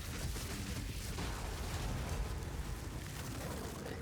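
Detonate Dead blasts from Path of Exile 2 gameplay, a dense continuous rumble of overlapping booms with no clear gaps, moderately loud throughout.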